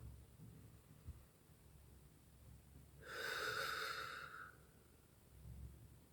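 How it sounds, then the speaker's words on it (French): A slow, deep inhalation during mindfulness meditation, a soft airy breath swelling for about a second and a half mid-clip against a quiet low hum, with no talking. "On inspire profondément"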